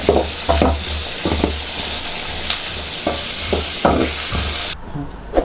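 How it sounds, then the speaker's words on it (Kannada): Small pieces of dry coconut fry in a pan on a low flame, a steady close sizzle broken by repeated stirring scrapes, with the noise dropping suddenly near the end. "ಕೊಬ್ಬರಿ ತೊಗೊಂಡಿದ್ದೀನಿ, ಚಿಕ್ಕ ಚಿಕ್ಕದಾಗಿ ಪೀಸ್ ಮಾಡಿ ಹಾಕ್ಕೊಂಡಿದ್ದೀನಿ. ಇದನ್ನೆಲ್ಲ ಚೆನ್ನಾಗಿ ಫ್ರೈ ಮಾಡಬೇಕು."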